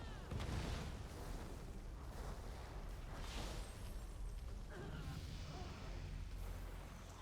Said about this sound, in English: I still do that explosion whenever I level up